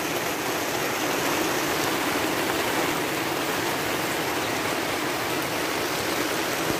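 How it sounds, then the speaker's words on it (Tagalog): Heavy rain pours down steadily in Bulacan, a dense, even hiss that fills the whole stretch at moderate loudness, with no talking. "Lumakas na naman yung ulan."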